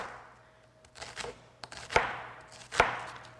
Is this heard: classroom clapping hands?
no